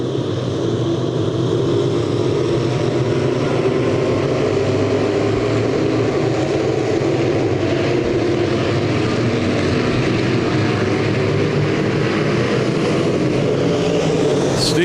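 B modified race cars at Thunderhill Speedway taking the green flag into turn one, a loud continuous engine roar from the pack that holds steady throughout, heard from trackside.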